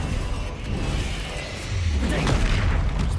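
A Confringo fire spell bursting in Hogwarts Legacy, heard as a low booming blast that swells midway through amid busy combat noise, with a voice calling out over it.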